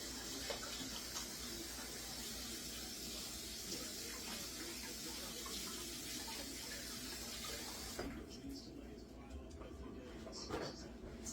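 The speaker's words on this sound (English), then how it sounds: "Let me just wash my hands real quick." Running water from a kitchen tap splashes steadily as hands are washed, a continuous broadband rush that thins out partway through, with faint kitchen clatter beneath.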